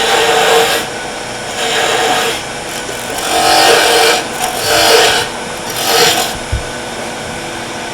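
A wood turning lathe cuts into real wood with a roughing gouge, a sustained rasping scrape that rises and falls in several passes over a steady motor hum, close and fairly loud.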